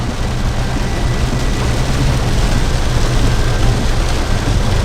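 Steady heavy rain pouring during a road trip through Kaur, Bengkulu, Indonesia, a dense continuous hiss with a low rumble underneath, loud and unbroken, with no talking.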